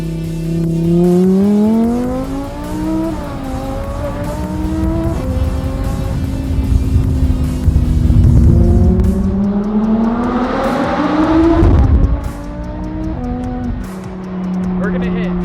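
An Audi R8 V10 revs hard with rising and falling engine pitch, then crackles with exhaust pops near a tunnel, loud and close, while people talk over it inside the car.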